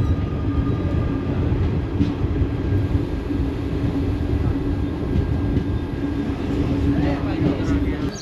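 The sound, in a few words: Mysuru–Talaguppa Intercity Express train running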